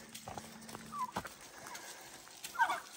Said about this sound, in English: Come on, turkey.